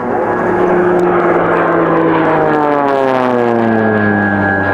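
Swiss Air Force Pilatus PC-7 turboprop trainers flying an aerobatic looping display at an air show, a loud continuous propeller drone whose pitch slides steadily lower as the aircraft pulls up and loses speed.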